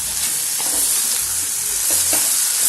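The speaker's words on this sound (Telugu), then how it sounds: "బాగా ఉడుకుతూ వేగుతుంది అన్నమాట ఫ్రై" Ivy gourd (dondakaya) frying in a pan, a steady close sizzle with a few short scraping stirs of the spatula, no voices.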